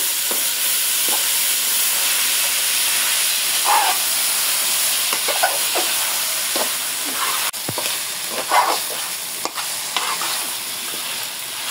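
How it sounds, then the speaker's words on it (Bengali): About a kilo of polao rice fried with spices in a pan, giving a constant loud sizzle and hiss with repeated scraping stirs of the spoon. Close and continuous, with no talking. "চালগুলো ভাজা হয়ে গেছে।"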